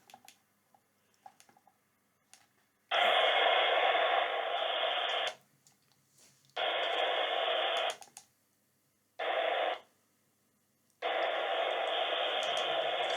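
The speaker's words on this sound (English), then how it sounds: "There's a lot of noise on the same frequency as GB3IM" Bursts of loud hissing static on the GB3IM repeater frequency come through a cheap TYT MD-UV380 DMR handheld radio, four blocks of white noise, each a second to three long, separated by near silence and faint clicks.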